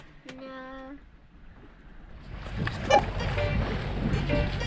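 A sailboat motoring under engine at sea: a steady low engine drone and hull rumble build up, with wind and water noise, after a brief tonal beep near the start.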